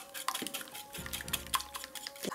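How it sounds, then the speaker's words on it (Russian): A utensil clinks and scrapes against a bowl while stirring an egg, milk and cinnamon mixture, a few quick close taps and a short swishing stretch with no talking. "Перемешиваем до такого состояния, чтобы у нас не тянулись белковые нити"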